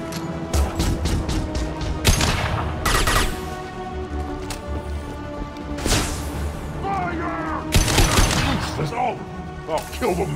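Gunfire crackles through a Mass Effect 2 battle, with bursts of shots and impacts recurring across the scene under shouted orders and voices, dense and loud throughout.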